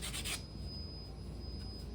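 Light sanding of wooden puzzle edges with sandpaper, a few soft, quick rasping rubs at the start, then faint low rustling, close and quiet with no speech.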